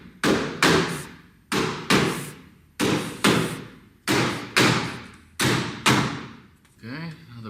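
Sharp hammer blows strike sunroom panels during installation, about eight heavy thuds in an even rhythm, each ringing briefly, close and loud, with a short voice at the end.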